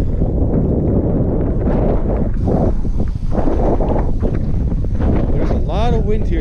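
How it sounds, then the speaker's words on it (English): Steady wind buffets a GoPro Hero 5 microphone on a fat bike riding through city streets in spring, a loud continuous low roar with gusting rustle throughout, briefly dipping near the middle. "There's a lot of wind here today"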